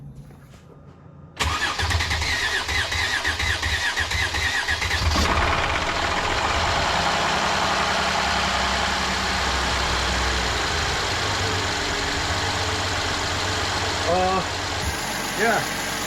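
A Mercedes M276 engine with dry fuel lines cranks for a few seconds, catches and settles into a steady close idle, with a person speaking briefly over it.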